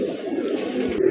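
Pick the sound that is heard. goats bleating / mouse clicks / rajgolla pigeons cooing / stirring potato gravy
rajgolla pigeons cooing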